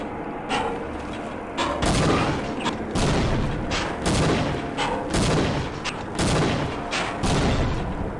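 Repeated grenade explosions and bangs in the Half-Life shooter game, a dense run of loud booms and sharp blasts following one another over several seconds, with no talk.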